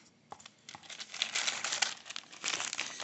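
Plastic baggies from a board game box crinkle and rustle close up, building from a few soft crackles into a steady, busier crumpling with no talking.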